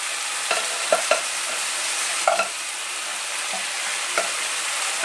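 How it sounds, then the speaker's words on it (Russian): Meat and shredded cabbage fry in a hot pan while being stirred, giving a steady loud sizzle with scattered scraping knocks from the utensil against the pan and no talk. "Ну и пока наше мясо жарится, засыпаем нашу капусточку."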